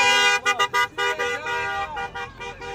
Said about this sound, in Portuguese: O pessoal tá passando e buzinando aqui,